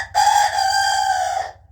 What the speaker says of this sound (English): And there's my rooster, Charlie